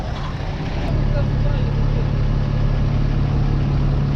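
A John Deere 1042 combine harvester engine runs at a steady loud drone with a low even hum, while someone talks over it.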